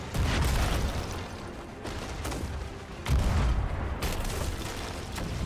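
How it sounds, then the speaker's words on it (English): Ship cannons fire in the pirate video game Sea of Thieves, with heavy booming blasts at irregular intervals over a dense, rumbling roar of wind and sea noise. "Oh, load cannon."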